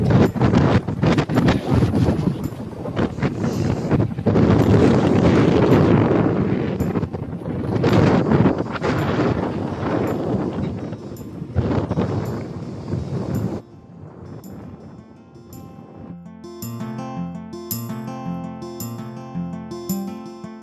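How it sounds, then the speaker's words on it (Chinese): Strong wind buffets the microphone on an island coastal path, roaring loudly and almost without break before easing near the end, when a faint tinkling, tonal sound takes over; no one speaks. "不过今日大风咗啲，咁啊真系有啲冻嘅。"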